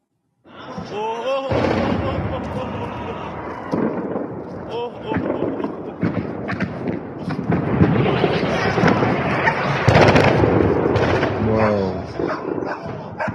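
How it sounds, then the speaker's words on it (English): Heavy explosions from airstrikes over Kermanshah rumble and crack in broad bursts, while a dog barks repeatedly and people speak close by. "Massive airstrikes are happening."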